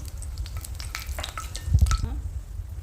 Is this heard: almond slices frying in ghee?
yes